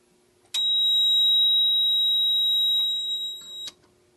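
A fire alarm panel module sounds a single sustained high-pitched electronic tone for about three seconds, loud and steady, then cuts off abruptly, with a faint background hum.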